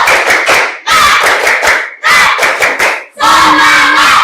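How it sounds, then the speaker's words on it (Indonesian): A school class performs a rhythmic clapping chant, bursts of loud group claps and shouted syllables in four patterned phrases with short pauses between them, close and energetic. "Oke, tepuk semangat."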